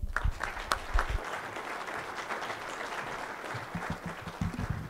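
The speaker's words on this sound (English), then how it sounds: "Ladies and gentlemen, let's give her a round of applause." Audience applause at an agricultural summit panel on exporting and international trade, a dense, moderate wash of many hands clapping that fades slightly and then swells again toward the end, heard from within the room.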